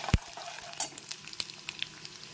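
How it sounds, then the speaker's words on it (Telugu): Mustard seeds, chana dal, urad dal and dried red chillies tempering in hot oil, a steady close sizzle with sharp popping crackles and spits scattered throughout. "ఇదిగోండి, పోపు వేగిపోతుంది."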